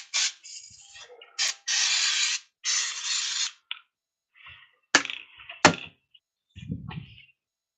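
Several short, sharp hissing bursts of a spray bottle spraying cleaner onto 2009 Suzuki GSX-600R motorcycle parts, separated by pauses, with a few softer scrapes and handling noises in between.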